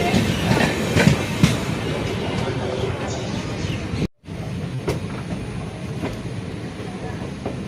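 A passenger train runs toward Villupuram station with a steady rumble and clickety-clack of wheels on the rails, heard from inside, with people talking and a brief dropout partway through.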